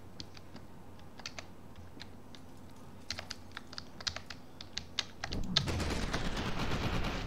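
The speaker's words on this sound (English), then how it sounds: "This gun shoots so well." Gunfire in the shooter game FEAR 2: a run of sharp, separate shots over keyboard tapping, giving way near the end to a loud, sustained burst of fire that fills the last seconds.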